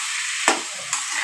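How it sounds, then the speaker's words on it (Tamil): Ingredients sautéing in a hot pan for a home lunch, a steady loud sizzle with two brief scraping stirs of a spatula, close up and without talk. "நல்லா வதக்கணும்"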